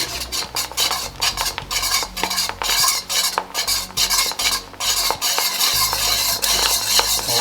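Salted egg yolk is stir-fried in a wok, with a metal spatula scraping and clattering rapidly against the pan over a soft bubbling fry and low background music.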